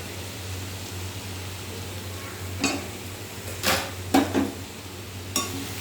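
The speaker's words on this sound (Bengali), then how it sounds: "এই যে এরকমভাবে নাড়াচাড়া করে নিতে হবে।" Spices are stirred in a cooking pot with a few short, sharp scraping clinks against the metal, spaced out over a steady low hum and faint background hiss, with no talking.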